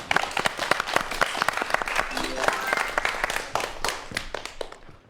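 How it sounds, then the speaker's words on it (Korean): A lecture audience applauds to welcome the final talk in a virtual reality science lecture series, a dense, steady round of clapping from many hands in a hall that holds for several seconds before tapering off at the end. "자, 마지막 강연입니다. 큰 박수 부탁드립니다."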